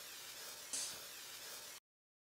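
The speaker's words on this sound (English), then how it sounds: "we're going to spray these with some cooking spray" A short, steady hiss of an aerosol cooking spray onto a baking tin, with one brief louder burst partway through, then it cuts off.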